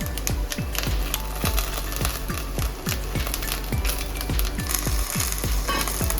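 Chicken pieces are added to a hot pan with browned coconut, giving a loud, steady sizzle broken by regular knocking thumps of stirring throughout.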